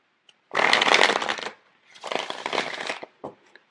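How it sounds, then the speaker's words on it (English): A deck of tarot cards is shuffled in two quick, close, riffling bursts, each about a second long, with a brief card tap at the end. "So let me get the cards out here."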